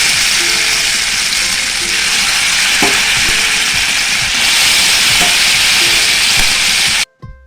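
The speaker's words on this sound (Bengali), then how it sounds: "এবার চিকেনটাকে সাদা তেলে ফ্রাই করে ভেজে নেব" Chicken marinated in ginger-garlic paste fries in hot white oil, a steady loud sizzle and hiss with occasional clinks of stirring, running alone before cutting off near the end.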